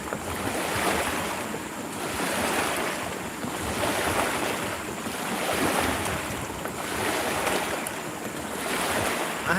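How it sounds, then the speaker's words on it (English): Waves lapping on a lake during early evening catfishing, a steady washing surge that rises and falls in slow swells, mixed with gusty wind buffeting close to the microphone. "yeah, we're getting some waves here."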